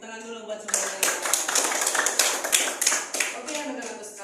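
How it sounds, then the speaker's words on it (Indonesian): Children in a class clapping their hands together, a burst of many quick overlapping claps that swells and then tapers off, with voices talking over it. "Tepuk tangan dulu buat semuanya."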